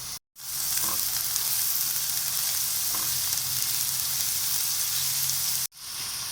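Chopped zucchini and a clove of garlic fry in a little olive oil in a pan, a loud continuous sizzle close up that cuts off briefly at the start and near the end.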